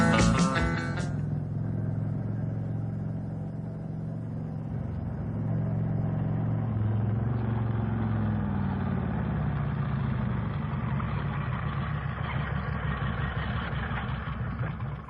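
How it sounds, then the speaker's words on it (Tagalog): A motorcycle engine rumbles steadily and close by for the whole stretch, its tone shifting slightly as it arrives, with a brief clatter right at the start. "May motor man nga miabot."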